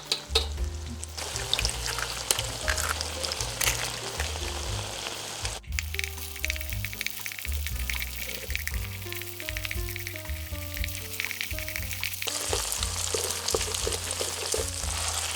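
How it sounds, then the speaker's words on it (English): Scrambled eggs fry in oil in a pan for kimchi pad thai, a continuous close sizzle and crackle with scraping stirs, alone with no talk. "Pour in a right amount of oil and make some space for scrambled eggs."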